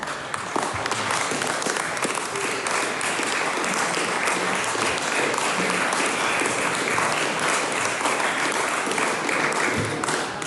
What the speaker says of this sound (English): I didn't expect applause this afternoon